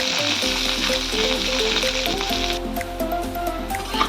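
Onions browning in a pan for a fish dish sizzle steadily and close, over a constant low hum and faint tonal background sounds.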